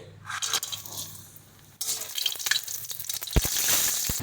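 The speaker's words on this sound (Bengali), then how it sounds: "তো চলো তেলটা গরম হয়ে গেছে প্রথমে আমরা বড়িটা ভেজে নিচ্ছি" Bori lentil dumplings fry in hot mustard oil. A steady sizzle jumps suddenly louder partway through and stays dense and close, with a few sharp clicks of a spatula or utensil.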